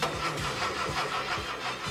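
A car engine cranks over and over without catching, a run of repeated starter whirs with no speech.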